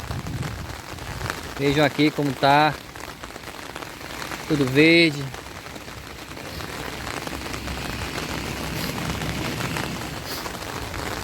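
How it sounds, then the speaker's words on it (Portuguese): Heavy rain falls steadily over green countryside in the Brazilian sertão at Campanário, Ceará, under a completely overcast sky, a constant wash of noise through the whole stretch, with someone speaking briefly near the start. "Muita chuva, meus amigos."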